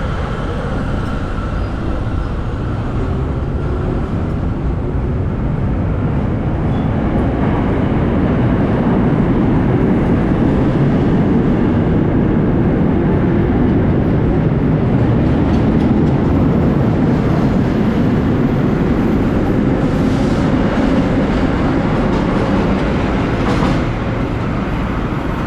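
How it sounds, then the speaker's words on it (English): A 1930s R9 subway train, the New York City Transit Museum holiday train, rumbles loudly and steadily throughout, with continuous wheel roar and faint clicking on the rails, close by and without voices. "the New York City Transit Museum holiday train of R9s from the 1930s"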